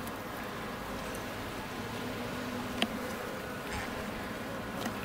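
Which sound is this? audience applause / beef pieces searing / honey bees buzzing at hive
honey bees buzzing at hive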